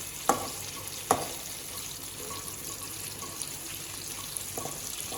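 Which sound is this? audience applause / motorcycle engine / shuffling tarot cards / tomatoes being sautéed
tomatoes being sautéed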